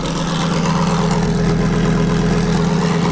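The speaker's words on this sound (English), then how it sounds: "Turbo spinning there." A Lamborghini converted to a six-speed gated manual transmission idles loud and close, a steady low engine drone with a faint turbo whine running over it.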